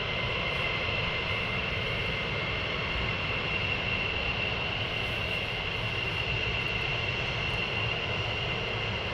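Military jet roaring steadily as it takes off and climbs out at RAF Lakenheath, a loud continuous engine rumble with high whine held throughout, no voices over it.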